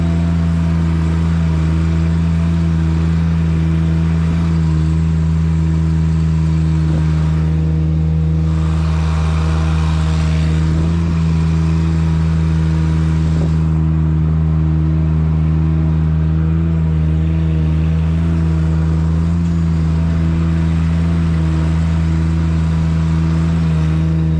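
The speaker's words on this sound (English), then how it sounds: "we're going to engage the charge, get our drive tight, and we'll move" A Haulotte lift's engine runs steadily as the machine drives, a loud, close, constant mid-pitched drone with strong low hum that swells slightly in places, with no talking.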